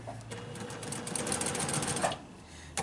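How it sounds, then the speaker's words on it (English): Sewing machine running steadily as it stitches the side and bottom of a fabric face mask to form a nose-bridge pocket, a close, continuous whirring hum with a quick pause near the end. "I'm going to sew down the side that I left without the top stitching and along the bottom to make the pocket"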